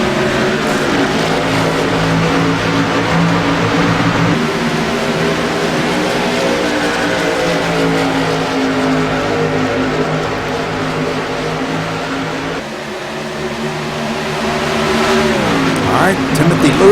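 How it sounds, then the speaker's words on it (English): Race cars accelerate around the track during a race broadcast, a continuous loud engine roar with shifting pitch as cars pass, under steady commentary. "Takes it down a little bit low, and that's going to allow Sean Butler to get by him on the high side"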